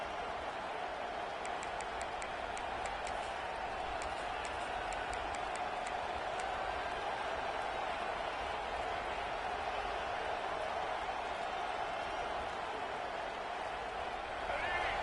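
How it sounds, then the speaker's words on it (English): Steady roar of a packed football stadium crowd at an Alabama vs LSU game during an Alabama timeout, a dense continuous wash of cheering voices with scattered high whistles, holding loud and even throughout. "And wow, listen to this crowd noise. This stadium is vibrating."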